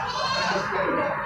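A large male goat bleats at a livestock market, a nasal, wavering cry held for over a second, fairly close amid the busy market background.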